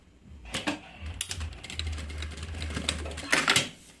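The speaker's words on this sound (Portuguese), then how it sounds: "E já vai costurar esse aqui pro lugar também." A sewing machine stitches a fabric piece for a changing pad that converts into a bag, running in a steady, close motor hum for about two seconds between sharper clicks and handling taps.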